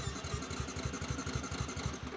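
Yamaha R125 motorcycle with a badly running engine cranks and tries to start, a rapid, even chugging pulse close by that never catches.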